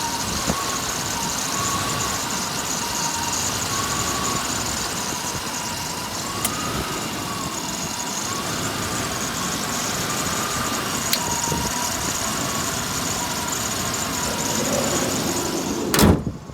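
The original 1982 Imperial's air conditioning compressor runs with the engine idling, a steady close hum broken by sharp clicks as it cycles on and off, with a louder clunk near the end.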